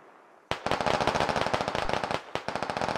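Rapid automatic rifle fire in the Squad Ops video game: loud, sharp bursts of shots rattle off in quick succession after a quiet start, then break briefly before another burst.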